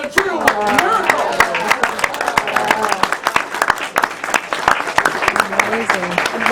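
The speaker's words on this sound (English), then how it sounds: "let's give her another big round of applause, ladies and gentlemen" An audience at a school gala magic show claps steadily in a sustained round of applause, dense overlapping hand claps with voices mixed in throughout.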